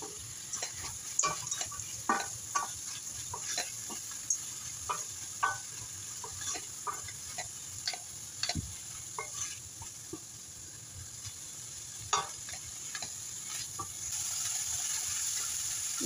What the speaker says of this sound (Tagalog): Then add natin yung mixed vegetables para maigisa na rin.